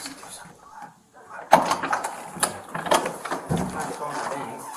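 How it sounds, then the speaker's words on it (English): A door is opened in a hallway during a police encounter, with an abrupt loud handling clunk followed by rattling and room noise as voices murmur. "And the police quietly signal to one another down the hallway that Casey is preparing to open the door."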